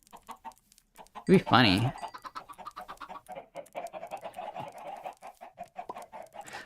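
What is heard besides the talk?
chickens clucking in Minecraft video game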